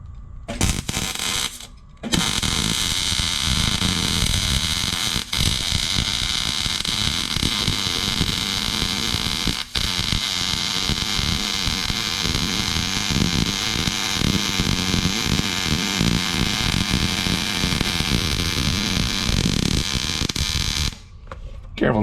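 Short-circuit MIG welding (GMAW SCT) running vertical down on a steel I-beam, a loud, steady crackling buzz that holds for about twenty seconds between brief pauses at the start and end, with no talk over it.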